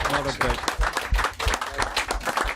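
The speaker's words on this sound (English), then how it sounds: "Give them a round of applause" Studio audience applause for guests on a football talk show, a short burst of clapping with a voice talking over it throughout.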